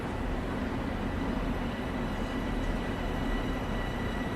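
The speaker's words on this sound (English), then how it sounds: "here comes our train now." A Long Island Rail Road train in the Train Sim World video game pulls in toward the platform, a steady, dense rumble of wheels and motors that holds even and fairly loud throughout, with no talking.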